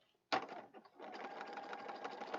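A sewing machine stitches along the edge of a junk journal page, with a sharp mechanical start, a brief stutter, then a steady close whirring hum of rapid needle strokes.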